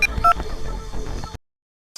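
A phone keypad dials for a direct call. A couple of quick electronic tones sound near the start over a busy background, and then the sound cuts to silence before resuming briefly.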